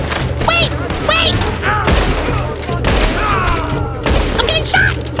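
A Red Dead Redemption II shootout: loud, dense gunshots and booming blasts crack repeatedly throughout, mixed with shouting voices talking over the battle.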